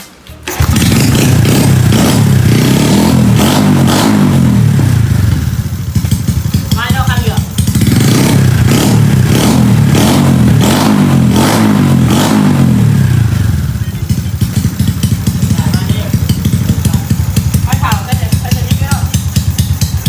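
Modified Honda Dream and Wave 110i motorcycles in a street race start and rev hard nearby, a loud continuous engine roar that rises and falls, with people talking under it.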